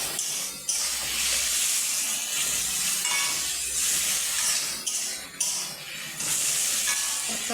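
Fish liver and fat frying in hot oil, a continuous bright sizzle with crackling bursts and a few short dips, close and loud with no talking.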